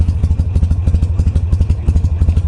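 A carbureted Harley-Davidson Sportster motorcycle idling close by, its loping V-twin beat thumping in an uneven, rapid rhythm with mechanical clatter over it.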